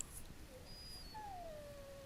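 A dog whimpers inside the Dragon Age: Origins video game at Castle Cousland, a faint, thin, drawn-out whine that slides downward and sits over a low, steady background hum.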